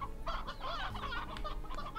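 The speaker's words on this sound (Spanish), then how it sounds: "¡Ay, un pollito pétreo!" A rock chick in the Slime Rancher video game gives a short burst of clucking, chirping calls, clear and close with no voice over it.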